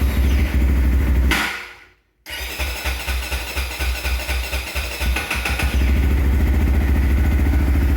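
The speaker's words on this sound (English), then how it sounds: "what you usually want to do is you want to start the bike up" Motorcycle engine starting: a steady running drone cuts off, then the engine catches after a short silence and settles into a rhythmic, pulsing idle, close and loud.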